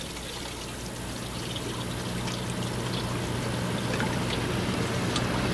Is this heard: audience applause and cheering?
no